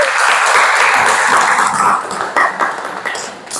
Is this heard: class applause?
yes